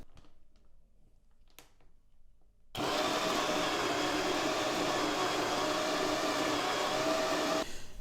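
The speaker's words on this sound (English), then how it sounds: "Okay, the grinder is done" A GRAEF CM800 coffee grinder grinds espresso beans: after a few seconds of quiet handling clicks, the motor starts abruptly into a loud, steady, close whirring grind lasting about five seconds, then cuts off.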